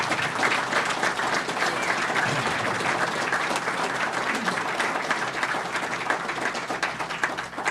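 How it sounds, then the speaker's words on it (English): A crowd at an airport dedication ceremony for Robert H. Jackson Field in Chautauqua County breaks into sustained applause, a thick, even wash of many hands clapping throughout, with no talk over it. "Round of applause for Chautauqua County."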